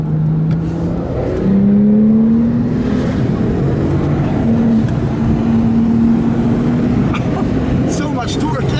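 A Ruf RT35 Anniversary sports car accelerates hard, its engine note climbing steadily through the gears with brief dips at each shift, heard loud from inside the cabin over continuous road and wind roar.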